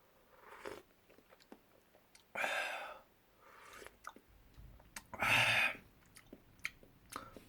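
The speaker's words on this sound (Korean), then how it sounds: "한번 먹어볼게요." Someone eats ramen in Korean beef bone (sagol gomtang) broth up close, with soft chewing and clicks broken by two loud, sustained slurps of noodles.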